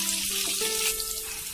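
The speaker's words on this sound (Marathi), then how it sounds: "कांदा आणि मिरची आपली तेलामध्ये व्यवस्थित चांगली तळली गेली आहे" Onion and green chili fry in oil in a pan for an aloo gajar sabzi, giving a steady, close hiss and sizzle with a faint hum beneath and no talk.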